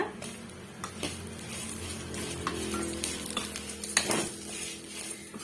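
Sautéed brinjal being stirred into a brinjal chutney in a pan, with a spoon scraping and clinking against the metal over a soft sizzle. The close stirring strokes come in an irregular rhythm, and no one speaks.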